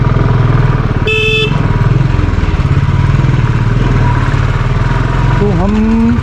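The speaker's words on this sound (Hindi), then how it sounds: "पावरफुल बाइक चाहिए भाई पंकज रावत, क्योंकि अगर इससे भी गंदे रास्तों पे जाना है तो बड़ा मुश्किल हो जाएगा बाइक में।" A motorcycle engine runs steadily and close while riding a rough, broken hill road near Chail in Himachal Pradesh, with a vehicle horn honking briefly and another horn sounding near the end.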